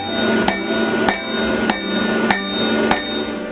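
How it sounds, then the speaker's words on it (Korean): A blacksmith hammers iron in a thatched-roof village forge, five evenly spaced, ringing metallic strikes about half a second apart, loud and close, each leaving a bright sustained ring under a steady hum. "올망졸망 소담스런 초가집들 사이로 탕탕탕 울려 퍼지는 망치질 소리"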